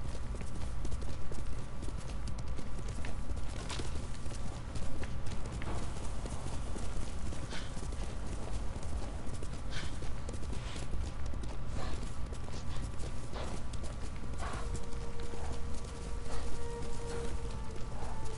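Horse hooves clip-clop steadily at a walking pace in a video game set around a mountain shrine, sounding close and continuous over a layer of ambient game music and wind.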